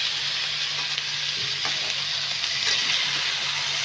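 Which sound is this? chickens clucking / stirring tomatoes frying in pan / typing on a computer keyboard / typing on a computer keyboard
stirring tomatoes frying in pan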